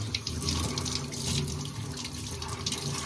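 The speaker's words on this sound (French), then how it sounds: "Je vais quand même rincer mes mains" Running water from a tap as hands are rinsed under it in a sink, a continuous close splashing hiss that stays steady throughout, with no speech.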